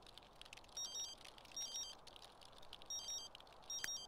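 A telephone ringing in The Sims 3, four short bursts of a bright electronic ring spaced evenly apart, faint over a low background hiss.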